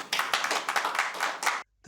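An indoor audience applauds the winners of a national assembly quiz competition, a short burst of dense clapping that cuts off abruptly.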